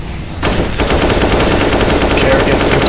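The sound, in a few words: gunfire in the video game Counter-Strike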